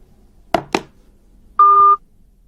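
A telephone gives an incoming-call signal: two short clicks, then a single steady electronic beep lasting under half a second, loud and close in an otherwise quiet room.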